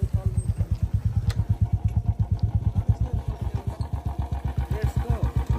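A motorbike engine idles nearby with a steady, fast thumping pulse that runs unbroken throughout, low and rumbling, on a trip from Kathmandu to Nuwakot.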